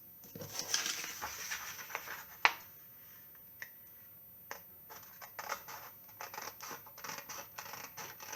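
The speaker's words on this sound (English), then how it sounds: "move your paper round, keep your scissors in the one place" Sharp, crisp scissor snips cut through paper in an irregular series, close and fairly quiet, with brief pauses between cuts and no talking.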